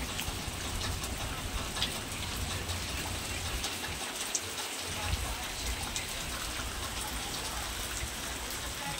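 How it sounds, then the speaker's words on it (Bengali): Heavy rain pours down steadily, hissing on surfaces, with wind gusting now and then in a storm. "যেমন ঝড় তেমন বৃষ্টি"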